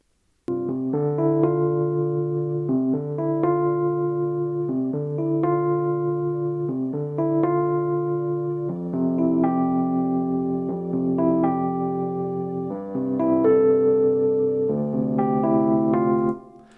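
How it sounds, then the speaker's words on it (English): Soft sustained synthesizer chords play a slow progression, smooth and warm, with gentle upper harmonics layered over a steady low pad. "you could probably hear that pad in the background"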